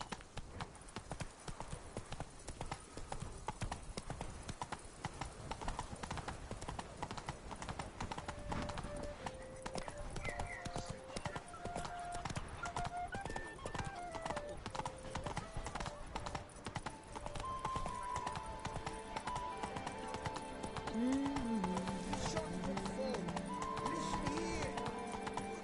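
Steady clip-clop of a horse's hooves trotting in The Witcher 3 video game, continuous and moderately loud, with a brief whinny and game music tones layered over it.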